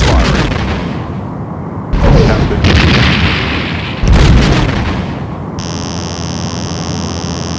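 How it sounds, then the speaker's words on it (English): Enemy starship weapons fire in the Star Trek: A Final Unity video game, heavy booming energy blasts in two loud overlapping bursts followed by a sustained electronic hum and rumble, dense and close. "Enemy ship is firing."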